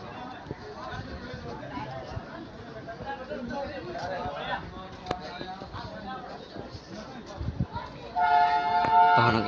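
The Sabarmati–Bhavnagar Intercity Superfast Express departs Sabarmati railway station, a steady rumble of rolling railcars and station noise under someone talking, with a loud train horn sounding near the end.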